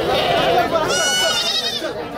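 Goats bleat repeatedly and close by at a busy Monday goat market in Akluj, their wavering calls rising over steady background chatter of people.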